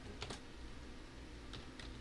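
A password is typed on a computer keyboard, a few faint, close key clicks in two small clusters against a quiet room hum, no voices.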